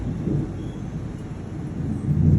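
Low, distant rumbling of thunder rolls on steadily, growing slightly louder toward the end, with no voices.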